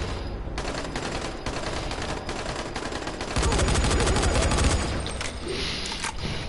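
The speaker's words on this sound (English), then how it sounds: "The range on this machine gun is great." Sustained machine gun fire in the video game Dying Light, rapid close bursts rattling almost without pause, swelling louder midway with dense overlapping shots and no speech.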